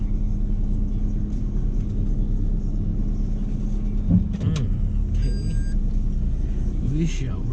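BMW E30 idling with a steady low rumble, close by, while a person speaks briefly and a few squeaks and clunks sound partway through.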